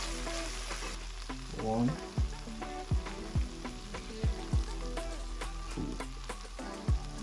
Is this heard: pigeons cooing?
no